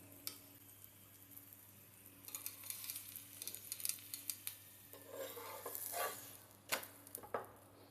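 Onion paratha frying on a pan just after being flipped: quiet sizzling with scattered scrapes and light metallic clicks of a spatula, growing busier midway and staying faint throughout.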